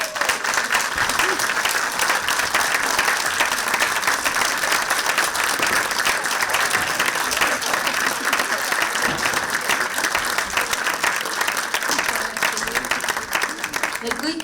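Festival audience applauding steadily throughout, a dense, loud wash of clapping with some voices mixed in, sustained at an even level from start to finish.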